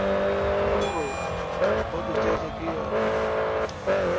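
A Mini Cooper John Cooper Works GP race car in the Grid Autosport video game: a revving engine rises and falls with gear changes and brief tire squeal, steady and loud, while someone talks over it.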